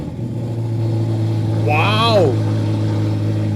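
A 2023 Ferrari Roma Mansory V8, started in race mode, settles into a deep, steady rumble close by. A person gives a loud excited exclamation over the engine.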